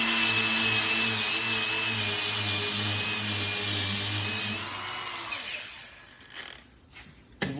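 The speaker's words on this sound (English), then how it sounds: "Okay, so we're going to go ahead and grind." A battery-powered hand grinder grinds metal before welding, a loud steady high whine with a low droning hum for about four seconds, then the motor winds down and stops, leaving a few faint clanks.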